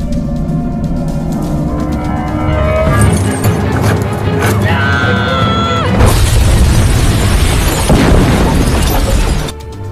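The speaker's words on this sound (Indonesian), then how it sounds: "Fang Hong pun mengorbankan dirinya yang tewas terkena ledakan hebat" A huge explosion in a Chinese revolutionary drama, with a hero killed in the blast while holding a door shut: a sustained roar and crashing debris rise over dramatic background music, growing louder and denser midway before cutting off near the end.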